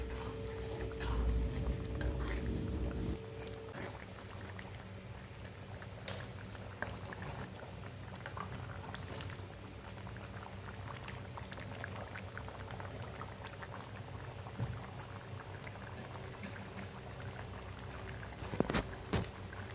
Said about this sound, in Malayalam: ഇപ്പം നന്നായിട്ട് തിളച്ചു ഗ്രേവി